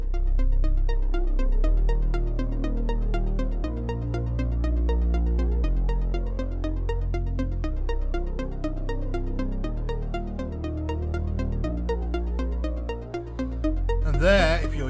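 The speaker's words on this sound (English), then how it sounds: "So what the LFO will do is pan the sound from the left to the right and then back to the left" Dense synthesizer sequence patched in VCV Rack, its notes pulsing in a steady rapid rhythm over a deep sustained bass as the sound sweeps between left and right under an LFO; continuous and fairly loud, with no talking.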